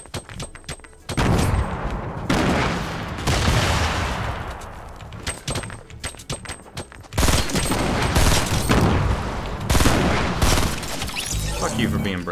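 Fortnite gunfire during a 50 vs 50 match, several loud bursts of rapid shots separated by short gaps, close and sharp, with players talking over the action.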